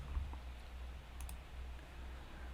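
A computer mouse gives a quick pair of faint, sharp clicks over a quiet room hum, with no one talking.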